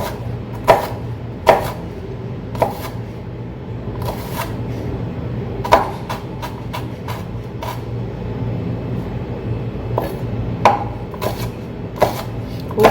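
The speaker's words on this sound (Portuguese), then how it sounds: "tem que terminar de cortar cebola" A knife chopping onion on a board in irregular bursts of sharp taps, some quick runs of several strokes and some single chops, close and fairly loud over a low steady background hum, with no talking.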